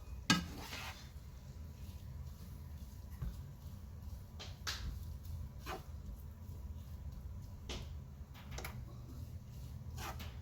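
Butter sizzling in a pan on a stove at low-medium heat, a steady soft crackle running throughout with a few sharp utensil clicks and taps scattered over it, fairly quiet and close.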